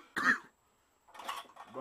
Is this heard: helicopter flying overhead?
no